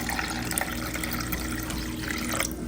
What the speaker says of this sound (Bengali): তো এবার যাবে একদম ঠান্ডা পানি